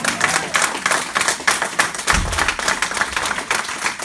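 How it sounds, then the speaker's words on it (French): An audience at a church convention claps together in a dense, steady patter, loud and close, with some crowd noise under it. "I say let us appreciate them with the hand J'ai dit clap."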